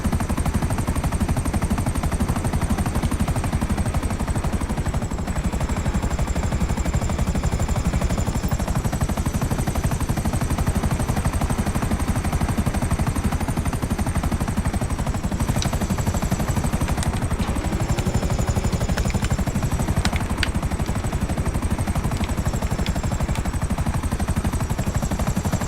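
A Bombushka Russian attack aircraft in GTA Online drones with a steady, dense propeller-engine hum, continuous and loud for the whole stretch, with faint gunfire-like crackles scattered through it.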